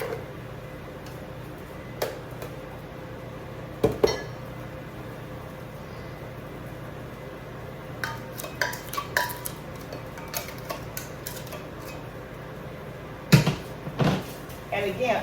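Blueberries and sugar are stirred in a pot, with scattered, quiet clinks and scrapes of a utensil against the metal that grow busier toward the end, beneath soft talk in a home kitchen.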